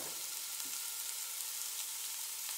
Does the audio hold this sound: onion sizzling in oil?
yes